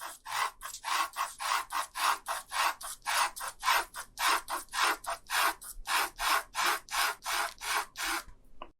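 Pencil shading strokes scratching across paper in a steady back-and-forth rhythm, about two dozen close, dry rasping passes with brief gaps between them, no voices.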